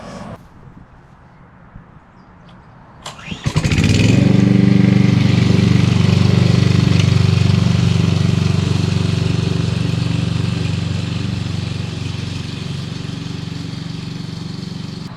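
A STIHL mulching lawn mower starts after a few seconds of quiet and then runs loudly and steadily, its engine drone holding close and continuous until the end.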